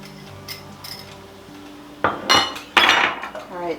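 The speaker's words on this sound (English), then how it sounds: "so now we're just going to stir this until that cream cheese just melts all in there" Cream cheese and heavy cream being stirred for Alfredo sauce: quiet at first, then a few distinct scraping clinks of a whisk against a metal pot, close up.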